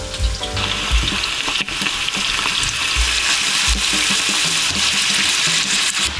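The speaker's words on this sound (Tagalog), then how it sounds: "We have to fry muna yung chicken. Lagay na tayo ng mantika. Then, lagay na natin yung chicken." Chicken pieces fry in hot cooking oil in a pan, a loud, dense, continuous crackling sizzle up close with occasional stirring knocks.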